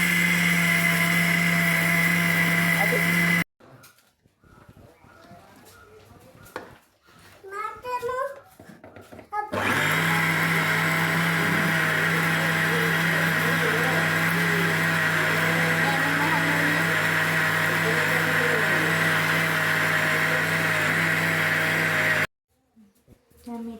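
A blender grinds rice in a loud, steady whirring run, stops while a person speaks briefly, then whirs again for a long, even stretch before cutting off.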